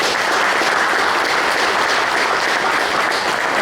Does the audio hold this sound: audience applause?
yes